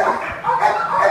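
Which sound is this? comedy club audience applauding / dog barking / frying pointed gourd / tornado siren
dog barking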